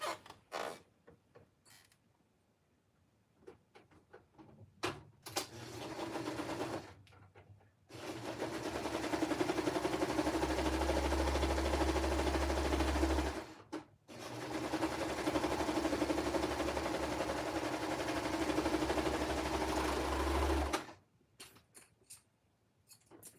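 A sewing machine stitches fabric for baby joggers in two long sustained runs of steady motor hum, close and loud, separated by brief pauses with small handling clicks at the start and end.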